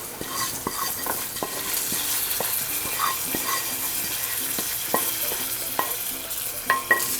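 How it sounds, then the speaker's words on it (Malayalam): Mustard seeds fried in oil and stirred for a Kuttanadan egg curry tempering, a close steady sizzle broken by repeated sharp metallic taps and scrapes of a spoon against the pan, no voices. "കടുക് വറുത്ത് ഇതിനകത്തേക്ക് ആഡ് ചെയ്യാം"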